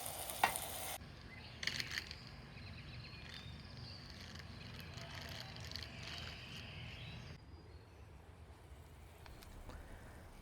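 Tomatoes cooking down in a pan over a camp stove in a forest campsite, a soft steady sizzle and bubbling with a few brief stirring clatters near the start, fairly quiet and continuous.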